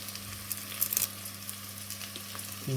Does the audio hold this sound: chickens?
no